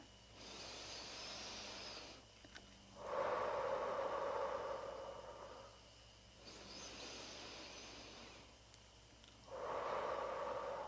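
Slow, audible breaths during chair yoga: long exhalations out through the mouth alternate with softer inhales in a calm, even rhythm, close and alone.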